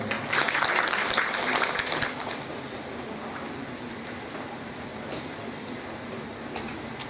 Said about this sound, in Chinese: 我们掌声欢迎他们。